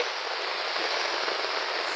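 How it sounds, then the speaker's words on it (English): Steady, dense rain pours during Tropical Storm Rafael in Jamaica, a continuous even hiss of drops on outdoor surfaces with no pauses and no voices. "Here rain already."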